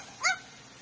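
A talking parrot imitates a dog, giving one short, whiny bark-like yelp with a bright tonal quality, close and fairly loud, standing alone against quiet room ambience.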